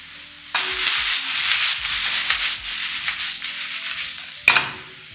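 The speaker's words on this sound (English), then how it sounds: "just give this a proper mix or a few tosses to distribute the seasonings evenly" Seasoned vegetables are stirred and tossed in a hot pan for an Ital veggie loaf, giving a steady scraping, sizzling rustle with a sharper clatter near the end and no talking.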